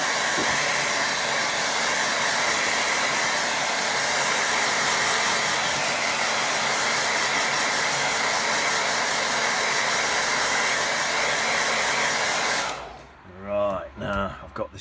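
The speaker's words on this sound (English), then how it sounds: "let's give that a blast with dryer" A hair dryer blows close and steady on a watercolour painting, a loud continuous whine and rush that cuts off abruptly, followed by a few seconds of quiet talk.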